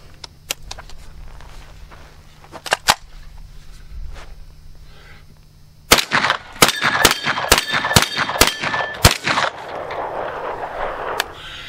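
Ruger PC Carbine fitted with a red dot sight fired outdoors at targets, a few scattered sharp reports followed by a rapid string of loud close shots with metallic pings of hit targets ringing between them.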